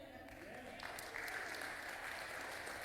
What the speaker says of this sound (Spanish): Dese un aplausote.